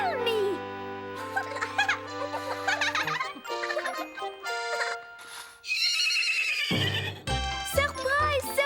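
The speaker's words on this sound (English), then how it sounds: "We have brought this lovely horse just for you." A horse brought as a birthday surprise neighs in long, loud, wavering whinnies, alongside hoof clops, tinkling jingles and excited voices in a cartoon scene.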